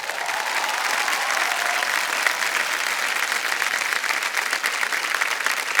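Studio audience applause on a televised quiz show, a loud, dense, steady wash of many clapping hands that runs unbroken throughout, with no talk over it.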